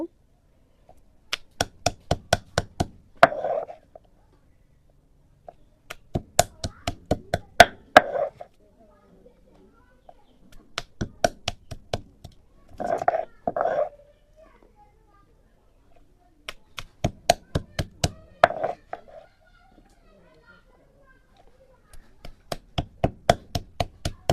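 Jujube fruits (boroi) crushed whole with their seeds, giving repeated bursts of sharp pounding strikes in quick clusters, separated by short pauses, close and fairly loud with a little faint background voice.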